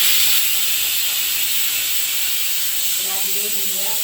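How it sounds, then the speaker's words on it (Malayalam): Cashew nuts frying in ghee give a steady, loud hiss of sizzling throughout, with a voice speaking briefly near the end. "ഇതിൻ്റെ പ്രത്യേകത അത് നെയ്യിലാണ് വറുത്തെടുക്കുന്നത്."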